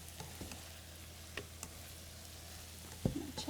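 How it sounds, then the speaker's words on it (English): Green beans sautéing in a pan for a Thanksgiving meal: a steady soft sizzle runs throughout, with a few light clicks and a utensil scrape near the end. "We're going to check on our green bean saute"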